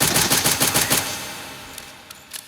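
Rapid bursts of gunfire from Minecraft Cursed Walking, a modded zombie video game, crackle in a quick repeating rhythm for about a second, then trail off into faint scattered shots.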